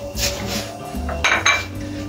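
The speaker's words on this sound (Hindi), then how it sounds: "ये हमने सब सब्जियां डाल देनी है एक साथ" Chopped carrots, cabbage, cauliflower and chillies tumble into a metal soup pot, giving a few close clinks and clatters of vegetables and utensil against the pan.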